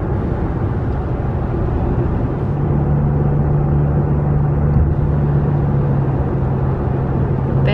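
Car cruising on a highway road trip near the New York State line, a steady close interior rumble of engine and tires with a faint low hum, no talk.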